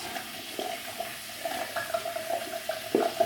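Hands are rinsed under a running tap at a sink, a soft continuous hiss of flowing water broken by small splashy bursts, fairly close and quiet.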